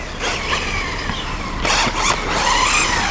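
An LRP S10 Blast 2 4x4 electric RC race buggy drives at full throttle with a loud, continuous high-pitched motor whine that rises and falls with passing and turning, mixed with gritty tire and mechanism noise.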